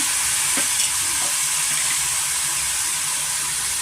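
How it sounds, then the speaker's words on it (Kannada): Vegetables fry in hot oil in a pan with a steady, loud sizzle throughout, joined by a few stirring scrapes near the start; no voices are heard. "ಸ್ವಲ್ಪ ನಾವು ಎಣ್ಣೆನಲ್ಲೇ ತರಕಾರಿ ಎಲ್ಲ ಸ್ವಲ್ಪ ಫ್ರೈ ಮಾಡ್ಕೊಳ್ಳೋಣ"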